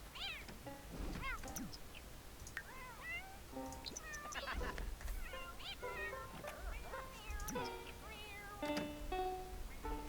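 A cat in The Sims 4 video game meows and cries plaintively, with repeated wavering mournful calls spread through the stretch alongside game background sounds, fairly quiet overall.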